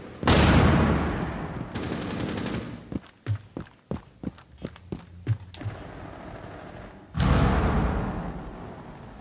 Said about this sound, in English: Charge prête à exploser. Je balance une frag. Attention, ça va sauter.